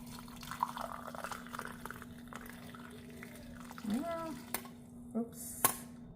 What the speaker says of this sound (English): I'm going to just pour it in the mug and strain it.